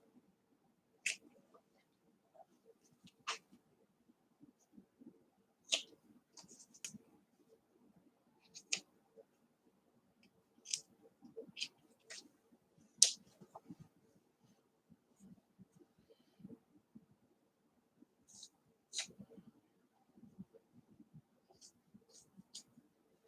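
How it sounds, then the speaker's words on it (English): Scissors snipping fabric corners on a sewing project, a series of sharp, separate clicks spaced irregularly, fairly close and fairly quiet against a soft low rustle. "And I'm going to trim up these corners."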